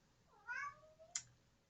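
A cat gives a single clear meow, close and fairly quiet in an otherwise still room, followed by a short sharp chirp-like sound.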